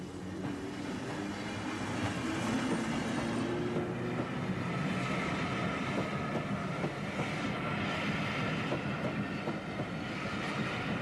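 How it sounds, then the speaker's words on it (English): A British Rail train passes over an automatic half-barrier level crossing, a steady loud rumble with wheel clatter lasting throughout, close by and with no voices. "the approaching train actuates track circuits and treadles"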